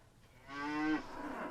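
A single cow on a dairy farm lets out one close, drawn-out moo lasting about a second, which fades into a quieter tail.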